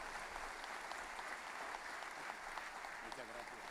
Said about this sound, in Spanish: te vamos a aplaudir con ganas